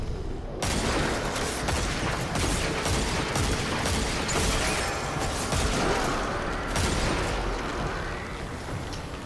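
Rapid gunfire from the Dead Man's Tale scout rifle in a video game, a dense stream of loud, closely spaced shots with explosive impacts that continues almost without a break for about nine seconds.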